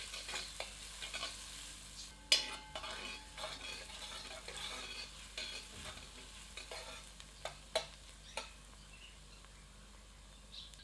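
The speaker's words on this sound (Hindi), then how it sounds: "इसे मध्यम आंच पर भूनते हैं ताकि प्याज सुनहरी दिखने लगे।" Onions stirring and frying over medium heat in a pan for a cabbage-potato sabji, a low steady sizzle with occasional sharp clinks and scrapes of a spoon against the pan, fairly quiet and with no talking.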